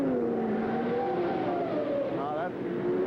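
Race car engine in a 1978 USAC race at Milwaukee pulling away from a pit stop, a steady rising engine drone with a higher whine near the end, heard under continuous commentary.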